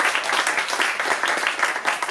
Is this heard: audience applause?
yes